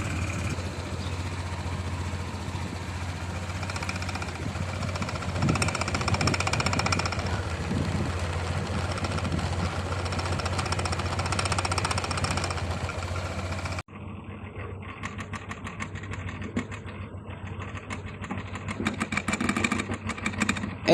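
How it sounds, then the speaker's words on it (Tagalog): Honda Click V3 scooter idling with a loose top box, a steady mid-pitched engine hum with rattling clatter over it, continuing close and even after a brief cut partway through. "Buksan muna natin yung ating motor para mas marinig nyo yung difference ng dalawa."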